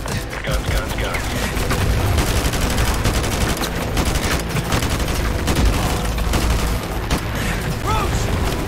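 Heavy sustained gunfire in Call of Duty Modern Warfare 2 Remastered, a loud, continuous barrage of rapid automatic shots and booms, with voices speaking amid the combat.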